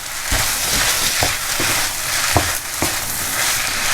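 Yakisoba noodles and mushrooms fry in a pan with a loud, continuous sizzle, punctuated by several sharp clacks of a utensil stirring against the pan, heard up close.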